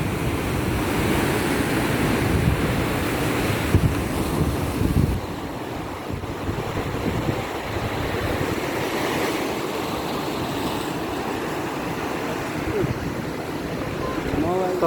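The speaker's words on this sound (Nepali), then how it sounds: "हावा धेरै छ" Strong wind at a seaside harbour with large parked ships buffets the microphone in loud, continuous gusts over rolling surf, easing somewhat partway through while a voice talks.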